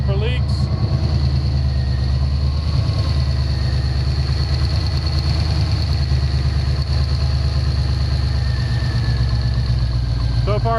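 1990 Ford Mustang engine with bad fuel injectors idling steadily and close, a continuous low rumble with a slight uneven misfire running through it, no talk.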